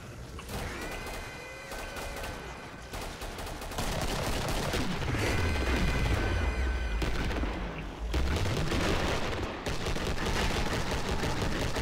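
Rapid bursts of gunfire from the video game Killing Floor, with loud automatic fire and repeated shots in dense volleys that continue almost without pause; a sweeping tonal whoosh rises and falls in the middle, and no one speaks.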